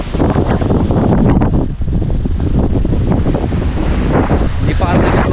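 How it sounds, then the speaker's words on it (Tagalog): Strong gusty wind roars and buffets the microphone at a beach resort in Pinamalayan, Oriental Mindoro, as the weather turns stormy, with loud continuous rumbling and possible surf underneath. "Napakalas ng hangin, no?"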